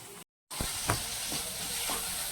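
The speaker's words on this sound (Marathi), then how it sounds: "पूर्ण सारण आपल्याला परतून घ्यायचं आहे" Vada pav potato filling sizzles in a pan as it is sautéed, a steady hiss of frying with a few soft stirring knocks, broken by a brief silent gap near the start.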